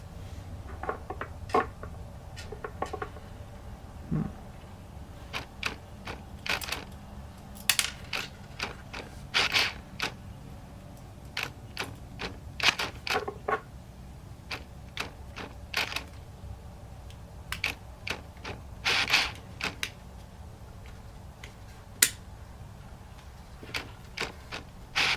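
Small screws driven by hand into a 1956 Ford F100 Moon tow truck diecast kit to fix the chassis to the body: quiet scattered ratcheting clicks and creaks in short bursts, close by and without talk.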